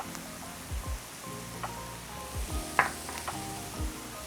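Tomato paste sizzling with garlic in a pan, a steady hiss of frying under low background hum, with occasional stirring scrapes and small clicks of a utensil.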